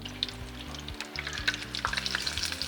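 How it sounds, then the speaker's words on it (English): Scotch eggs frying in hot oil, a close, steady sizzle and bubbling crackle with scattered sharp pops throughout, no voices over it. "I'm gonna lower these carefully into the oil"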